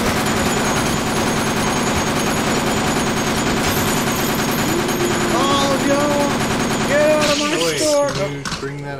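Rapid automatic gunfire from the zombie video game Dead Rising rattles on continuously and loudly for the whole stretch, with a voice talking over the dense shooting.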